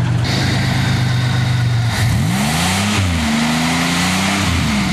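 An old car engine, a Buick Regal or Olds, idling steadily with the battery disconnected, loud and close, its tone wavering and rising briefly as the revs shift, with no talk.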